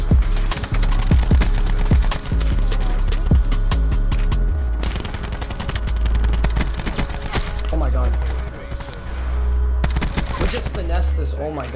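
Dense, loud automatic gunfire in Black Ops 4, long rapid bursts with brief pauses over a low rumble of game sound, and a voice talks now and then.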